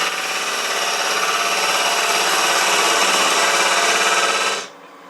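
A box scraper cuts wood on a spinning lathe, giving a steady, loud, close rasping hiss that holds constant for several seconds and then stops abruptly, leaving only a faint motor hum.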